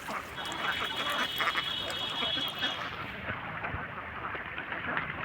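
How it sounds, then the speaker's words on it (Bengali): A large flock of egg-laying ducks at a hatchery farm raises a continuous chorus of quacking and honking in the background, moderately faint, with someone talking over them. "আমার পিছনে দেখতে পাচ্ছেন অনেকগুলো হাঁস আছে। এগুলো সবগুলো ডিমের হাঁস।"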